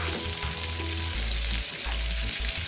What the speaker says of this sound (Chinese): 大火一起爆炒